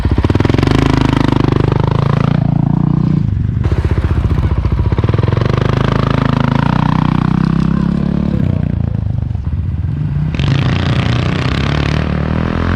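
A Honda CRF450RL with a Rekluse clutch revs hard through second gear toward 5,000 RPM, loud close engine roar rising and falling in pitch across several pulls.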